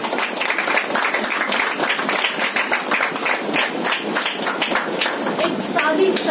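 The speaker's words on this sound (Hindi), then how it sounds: "उनके लिए तो बहुत सारी तालियां होनी चाहिए।" Lively applause fills a Women's Day celebration hall in Kandivali, a close, crackling patter of many hands clapping continuously, with voices faintly audible underneath.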